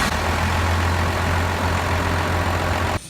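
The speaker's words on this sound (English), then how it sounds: "jump back in the cab and crank it over" A Cummins P-pump diesel truck engine idling, a loud steady low throb with a strong rumbling tone that cuts off abruptly near the end.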